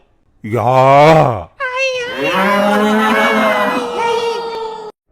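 A buffalo bellows in a cartoon comedy: a short, loud, low moo followed by a long, drawn-out groaning bellow, close and clear.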